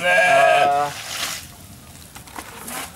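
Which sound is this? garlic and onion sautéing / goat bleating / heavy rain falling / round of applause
goat bleating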